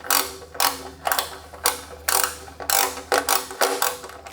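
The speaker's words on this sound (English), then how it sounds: "you don't want to watch me tighten every single bolt" A socket ratchet clicks in quick bursts while tightening bolts in a spiral on a small-block Chevrolet engine, about eight close, crisp ratcheting strokes in steady rhythm with no talk.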